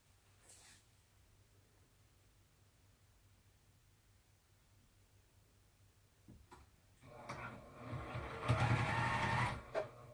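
A sewing machine stitches fabric for oven mitts, starting as a brief quiet burst and then running in a louder, steady close-up whir during the last few seconds, with no talking.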